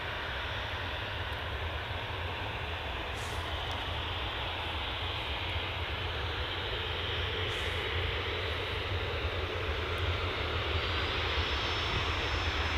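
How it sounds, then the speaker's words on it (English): A departing jet airliner gives a steady, continuous engine roar that holds at an even loudness for the whole stretch, with no talk. "First departure of the day. Here we go."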